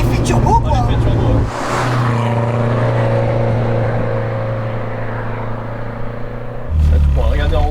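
A Renault 5 GT Turbo engine pulls from around 2000 rpm with turbo boost, a loud steady in-car drone with rising harmonics heard from inside the cabin, with people talking over it.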